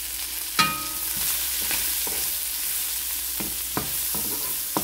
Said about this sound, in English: I use one head of coarsely chopped garlic and large white cooking onions. We're going to saute this one.